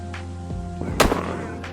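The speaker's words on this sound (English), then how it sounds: "Gunfire arriving." Gunfire in a video game: a sharp, loud shot near the middle with a few fainter bursts around it, over a steady low electronic hum.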